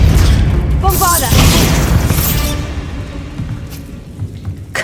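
A booming magical blast from the Bombarda spell in Hogwarts Legacy erupts loud and close at the start, a broad crashing burst with crackling debris, fading into a rumbling tail.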